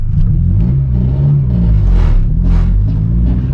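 A car with a badly worn clutch rumbles loudly and revs, its engine droning close and steady with rising and falling pitch.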